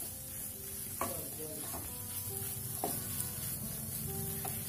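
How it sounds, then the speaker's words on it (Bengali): Cooked vegetables mashed with a metal spatula in a pan on the stove for a sandwich stuffing: a few sharp scrapes and knocks over a steady low sizzle, close and moderately loud, with no talking. "আমি এটাকে খুন্তি দিয়ে একটু সবজিগুলোকে স্ম্যাশ করে দিচ্ছি"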